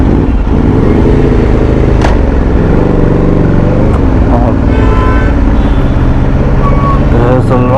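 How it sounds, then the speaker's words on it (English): Busy city road traffic with steady engine rumble and passing vehicles, loud and continuous, with a few horn-like tones near the end and speech mixed in. "There's a lot of traffic."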